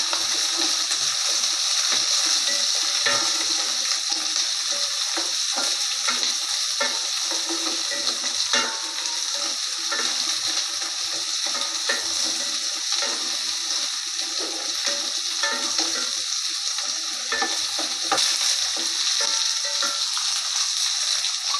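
Whole tomatoes sautéing in a pan for mutton kulambu give a steady, close sizzle that runs unbroken for the whole stretch, with soft crackles and no voices.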